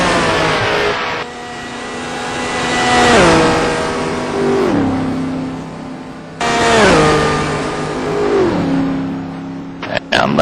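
Race cars in a Le Mans racing game mod roar past in two waves, engines revving high then dropping in pitch through gear changes and braking, loud and close.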